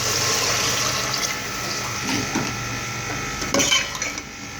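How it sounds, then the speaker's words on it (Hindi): About half a litre of water pours steadily into a cooking pot of peas with a continuous rushing splash, a few clinks of metal near the end. "अब मटरों को गलाने के लिए मैं इसमें शामिल करूँगी तकरीबन ½ लीटर पानी।"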